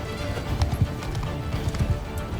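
Horse hooves clip-clop in a quick, steady rhythm with neighing in a medieval Mongol-tactics video game with horse archers, moderately loud against a busy battle backdrop.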